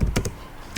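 Several keystrokes on a computer keyboard while a title is entered for an image on a webpage, sounding as a short cluster of close, crisp taps, then a pause and one final louder key press.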